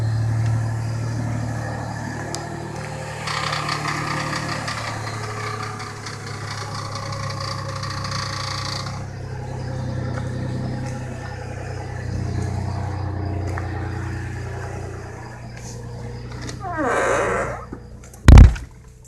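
Car engine with 173,000 miles idling during a Marvel Mystery Oil test, a low, steady running drone with intermittent irregular noises and a sharp knock near the end.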